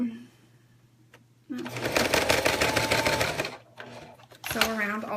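A sewing machine stitches around a zipper in steady bursts, running loud and continuous for about two seconds, pausing, then starting again briefly; a quiet hum sits underneath.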